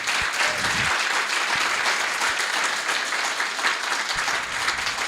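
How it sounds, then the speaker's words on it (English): An audience at a storytelling event applauds a storyteller with dense, sustained clapping that fills the room at an even level from start to finish. "Can we give Chloe another round of applause?"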